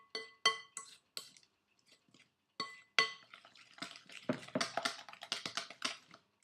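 Brownie batter with flour being blended in a bowl, giving a run of clinking, tapping utensil strikes against the bowl that start sparse and build into dense, steady scraping and clatter, close and fairly quiet with no talk.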